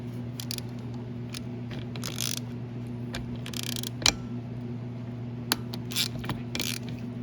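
Small metal clicks and ratcheting taps come from a wrench loosening the starter power-wire nut on a Yamaha Bruin 350 ATV, with a low steady hum running underneath throughout.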